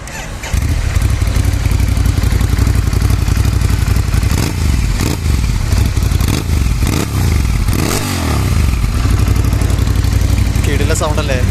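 A Ducati Scrambler motorcycle in a paint workshop cranks and fires up, then its engine runs loud and rough with throttle blips and mechanical clatter, filling the space nearby; a person talks briefly over it.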